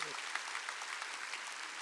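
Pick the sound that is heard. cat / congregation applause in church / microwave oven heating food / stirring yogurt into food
congregation applause in church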